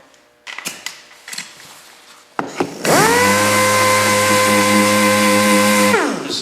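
A DA sander with 80-grit paper on a Toyota Prius plastic rear bumper cover: a few knocks and handling sounds, then the tool spins up into a loud, steady close whine for about three seconds before winding down.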